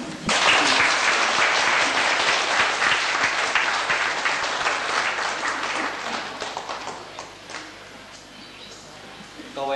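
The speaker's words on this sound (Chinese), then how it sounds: "现在请大家鼓掌" Wedding guests applaud at a church ceremony, a loud, dense burst of many hands clapping close by that gradually thins and fades toward the end.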